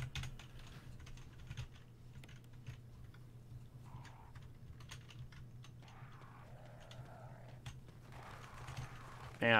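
Computer keyboard clatter from someone playing Resident Evil Remake with keyboard and mouse, quiet irregular key taps and clicks close by over a low steady hum.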